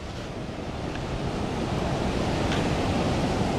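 Surf at Ngluen beach in Gunungkidul makes a loud, steady roar of breaking waves with rushing wash and some wind buffeting the microphone, continuous and close, with no one talking.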